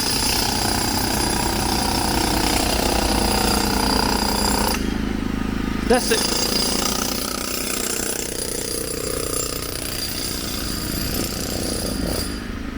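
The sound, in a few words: construction work noise on a Stockholm street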